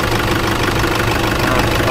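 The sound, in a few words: Toyota Fortuner diesel VNT engine idling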